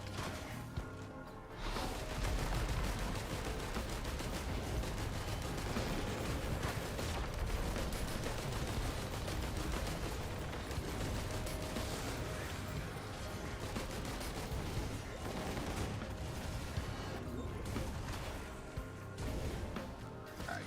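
Missiles launching amid chaotic combat in the action game Risk of Rain 2, with a sustained barrage of rapid blasts, impacts and mechanical whooshes running loud and continuous for about twenty seconds after a brief quiet start.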